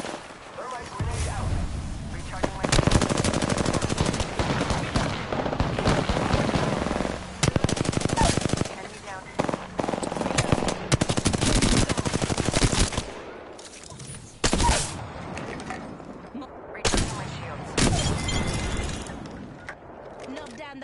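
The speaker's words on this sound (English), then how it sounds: "They spotted me. I'm taking shots. The enemies are shooting at me." Sustained automatic gunfire from enemies in a shooter video game, dense bursts with brief pauses running throughout, loud and close, with a player talking over it.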